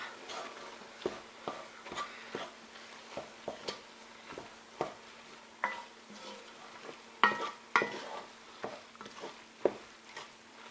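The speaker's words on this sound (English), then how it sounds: "Now we'll stir this all up." A spoon stirs food in a pot, giving a quiet, uneven series of scrapes and soft knocks against the pot over a low cooking sizzle, with no one speaking.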